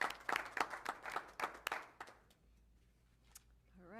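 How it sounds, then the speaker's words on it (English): A small group applauding at a board of education meeting: a couple of seconds of scattered, distinct claps that stop abruptly and leave near-silence, followed by a faint voice at the end. "Let's give them a round of applause for that."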